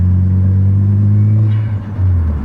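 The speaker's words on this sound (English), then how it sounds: "Being in RX7, hearing the blow-off valve, it's a total experience in itself." Right-hand-drive Mazda RX7 rotary engine, a loud deep droning hum held close by, dipping briefly near the end before picking up again, with no clear blow-off valve release and no talk.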